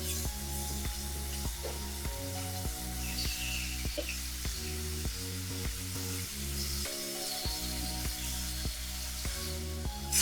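Honey paprika chicken strips cook in a hot pan with a steady, crackling sizzle, packed close together, punctuated by regular spatula scrapes and stirring knocks, with no talking.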